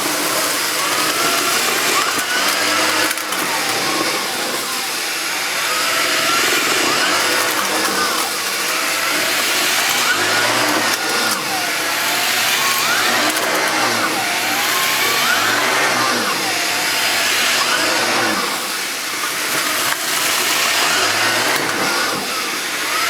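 An AEG Electrolux UltraOne Green cylinder vacuum cleaner fitted with a turbo nozzle, running loudly and continuously with a whooshing roar that swells and dips in rhythm as the head is pushed back and forth over a dirty floor.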